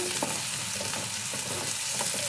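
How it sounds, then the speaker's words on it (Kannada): Onions frying in hot oil until golden brown, a steady close sizzle with occasional stirring and no voices. "ಗೋಲ್ಡನ್ ಬ್ರೌನ್ ಬರೋವರೆಗೂ ಎಣ್ಣೆಲಿ ಫ್ರೈ ಮಾಡ್ಕೋಬೇಕು"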